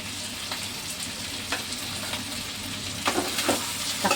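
Taro and dried prawn curry stirred in a pan, steady sizzling hiss with occasional scraping stir strokes, close and fairly loud, no talking.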